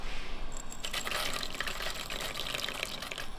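Small peppercorns rattle and splash into a jar of vinegar brine heating toward a boil, a brief clatter followed by a steady bright liquid hiss, close and fairly loud with no talking.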